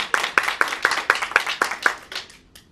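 Several people clap in a quick, steady rhythm for about two seconds, close by, the claps then thinning out and fading.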